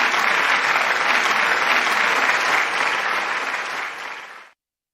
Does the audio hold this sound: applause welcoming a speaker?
yes